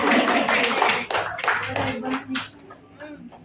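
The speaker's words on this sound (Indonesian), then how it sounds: "Tepuk tangan lagi buat kita semua." A group of teachers at a school training session claps together in a burst of loud, close hand claps that thins out and fades, with voices talking over it.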